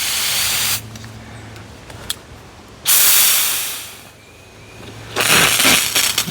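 Water from a Vevor retractable garden hose reel sprays at full pressure in three loud hissing bursts, separated by quieter pauses, close to the listener with no talking.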